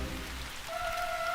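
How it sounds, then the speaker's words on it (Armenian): Rain begins falling in a cartoon, a soft steady patter that swells slightly, with a thin sustained tone entering partway through. "Ոնց որ թե անձրև է սկսվում։"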